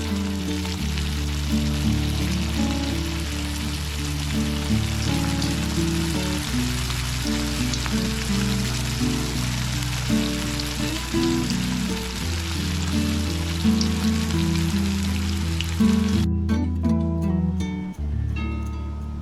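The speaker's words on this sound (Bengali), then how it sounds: "মঞ্চুরিয়ান বল এটার মাঝে আমি ফ্রাই করব। এখন আমি বল ভাজা করবো" Veg Manchurian balls deep fry in hot oil over a medium flame, giving a steady bubbling sizzle that runs for the whole stretch beneath continuous background music, with no talking.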